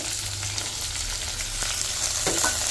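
Dried red chillies, small shallots and garlic, with curry leaves, fry in hot oil in a pan, giving a steady close sizzle with a few scraping stirs near the end.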